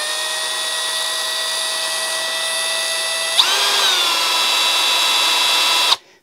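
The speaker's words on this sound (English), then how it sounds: "If I put this into a drill, because I noticed it spun a little funny." A power drill spins a Klein 15:1 ratcheting screwdriver, giving a steady, close motor whine that shifts pitch midway, runs for about six seconds, then cuts off. No one talks.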